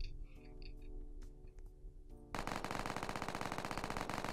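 SMG gunfire in the Roblox video game comes through as a dense, rapid automatic burst, preceded by scattered game sounds and tones.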